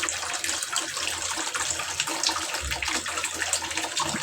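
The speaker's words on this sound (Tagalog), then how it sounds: "Lagyan mo lang ng konting tubig yan" Water pours and splashes steadily onto a children's playmat being washed, a continuous gushing spatter close by, with no talking.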